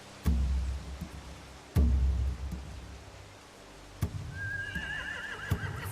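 Horses in a video game scene of The Walking Dead, with a few sharp thuds and a shrill whinny rising near the end over a low ambient background.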